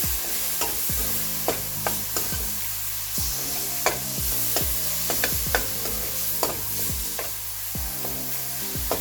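Medium tomatoes fry in a pan of dry lamb curry (lamb mast bhuna, restaurant style) under a constant close sizzle. A spoon scrapes and knocks against the pan in frequent, irregular strokes as the mixture is stirred, with no talking.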